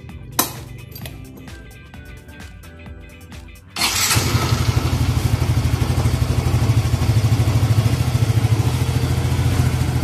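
A Yamaha Mio i125 scooter fires up after a short start, settling into a steady, loud idle with a rhythmic mechanical patter close by; no talking.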